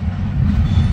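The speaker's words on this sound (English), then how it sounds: "Train on the way." Loud, low rumble of a passing Union Pacific train close by, steady and heavy throughout.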